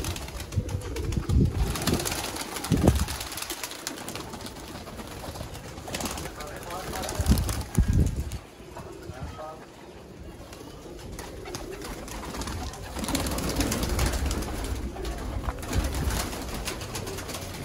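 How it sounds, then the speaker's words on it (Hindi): Pigeons coo softly nearby with occasional bursts of wing flapping, under background noise and some voices, in Sialkot. "ये सारे कबूतरों को ज़रा बाहर निकाले हैं"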